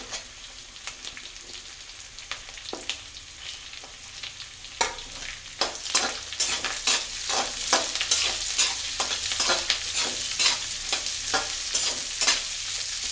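Small onions sautéing with clam meat for a Kerala-style kakka fry, a crackling, rain-like sizzle with frequent ladle taps and scrapes. The stirring grows busier and louder toward the end, heard close with no voices.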